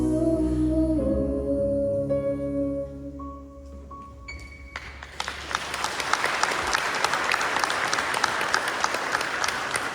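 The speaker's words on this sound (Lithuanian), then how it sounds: "Plojimai." An audience at a school's festive March 11 celebration put on by Trakai Vytautas Magnus Gymnasium students bursts into loud, sustained applause as a musical piece fades out, the clapping filling the room for several seconds.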